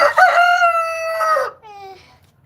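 A rooster crows loudly and close, giving a long, strained call that breaks off into a shorter, quieter tail at the end.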